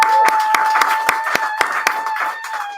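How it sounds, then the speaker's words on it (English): Sparse, rhythmic clapping from a small group at a school year-end event honouring students, with a steady tone running underneath, moderately close. "I think you all deserve a round of applause"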